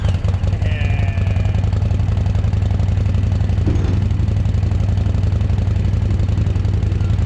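A Kawasaki Vulcan motorcycle, abandoned for 18 years and fresh from a CVK carburetor rebuild, idles on choke with a loud, steady low rumble and rapid chugging pulses, close by.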